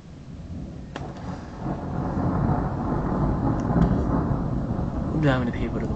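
Thunder from a thunderstorm, a deep rolling rumble that swells and stays loud, with a few sharp cracks and a voice speaking briefly near the end.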